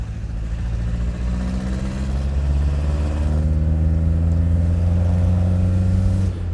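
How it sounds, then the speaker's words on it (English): A rough, throbbing old diesel engine with an exhaust leak drones loudly and continuously from inside a 1989 Renault Espace, its pitch rising and falling slightly as it drives. "It has a bit of an exhaust leak"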